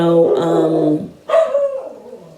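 Dogs bark close and loud in long, whining, yelping calls, one sustained cry followed by a rising yelp that trails off.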